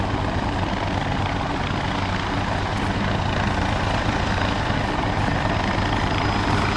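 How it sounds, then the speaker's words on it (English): A video game helicopter lands for an extraction, its rotor thumping and engine droning as a steady, continuous whir at moderate level, with no talking over it. "Signal spotted, and then the helicopter is landing."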